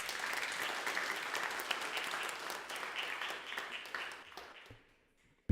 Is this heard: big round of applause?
yes